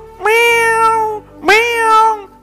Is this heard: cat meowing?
yes